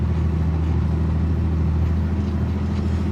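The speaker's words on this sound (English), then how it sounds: "I'm going up this huge hill, so excuse the truck noise." A dump truck's engine labours up a steep hill with a deep, steady low rumble and drone, loud and close inside the cab, and no talking over it.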